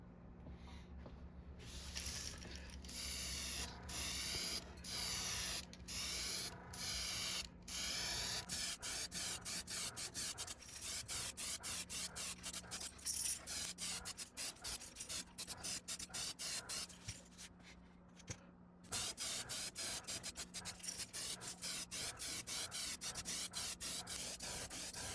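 A Gaahleri Mobius 0.2mm airbrush sprays yellow primer paint onto FireTiger fishing lures in repeated short hissing bursts, some quick and choppy and others longer and sustained, close up with quiet pauses between passes.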